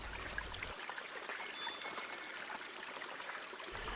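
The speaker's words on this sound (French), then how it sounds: "La catarata de la Fortuna, une formidable cascade qui dégringole dans un goulet étroit." La Fortuna waterfall in Costa Rica, plunging into a narrow gorge, gives a constant rushing, hissing wash of falling water, heard steadily at a moderate distance without interruption.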